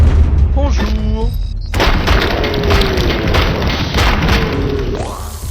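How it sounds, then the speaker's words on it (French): A pump-action shotgun fires in the video game Robocop Unfinished: a loud, sudden blast that rolls into a sustained heavy rumble, with a brief tonal game sound before it and a rising tone near the end. "Le fusil à pompe, mon gars."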